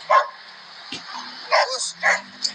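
A dog barks and yips in short bursts, several sharp barks with brief whimpering between them, fairly close.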